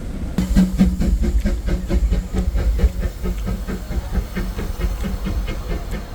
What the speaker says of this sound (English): I'm just over here train spotting now.